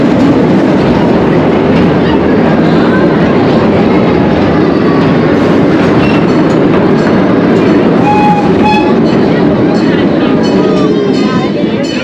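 The Irvine Park Railroad train rides along its track in Orange, California, with a loud, steady rolling rumble and occasional faint wheel squeals, with a voice speaking over it.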